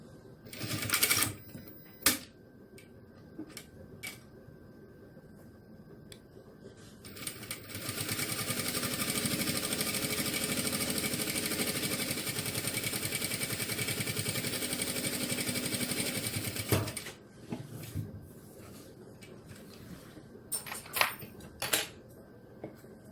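A sewing machine stitches a seam on the reverse side of fabric for a small car trash bag, using dark thread. Brief handling clicks come first, then a steady, fairly close machine whir runs for about ten seconds before stopping, followed by more scattered clicks.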